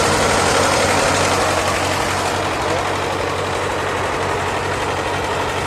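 A Ford 9N tractor engine runs at a steady, loud, close idle with a rough, low, chugging rumble that carries on without a break.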